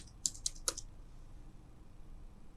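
Three quick, crisp keystrokes on a computer keyboard as a keyword is typed, close and clear, followed by quiet room tone.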